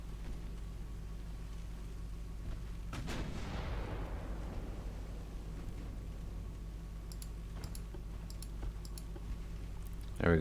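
Torpedoes fired from the Liverpool in the naval combat game Ultimate Admiral Dreadnoughts: a sudden thump around the third second, followed by a long falling whoosh. A steady low engine hum sits underneath, and faint clicks appear later.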